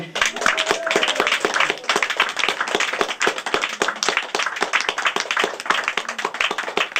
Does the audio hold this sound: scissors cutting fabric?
no